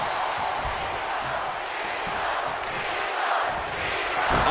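A steady, roaring arena crowd cheers throughout a WWE 2K24 wrestling match featuring John Cena, with a dense wash of noise swelling slightly near the end.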